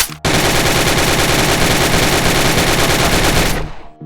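Sustained full-auto AK-47 fire in the VR shooter Gun Club VR, a loud, dense, unbroken burst of rapid shots lasting over three seconds before cutting off, no talking.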